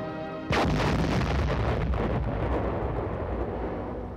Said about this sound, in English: one of our atomic cannon is brought into action to open another hole in the aggressor's lines